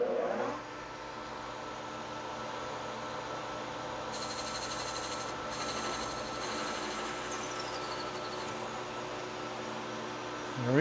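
A metal lathe parting off a metal workpiece: a steady machine drone with a continuous metallic cutting whine rising over it, ending with a brief bright screech as the cut finishes.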